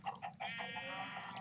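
A Minecraft chicken clucks several times in quick short bursts, then lets out a longer drawn-out cluck, close and clear with faint background hum.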